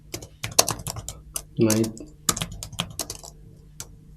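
Rapid, uneven clicks of fingers typing on a computer keyboard while entering Bootstrap HTML code, close and crisp, with someone speaking Hindi over parts of it.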